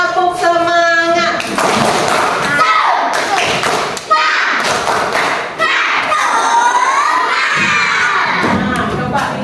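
A class of elementary school children perform a rhythmic spirit clap chant, loud claps and thumps mixed with shouted chanting and cheering voices close by, bursts of group clapping separated by brief pauses.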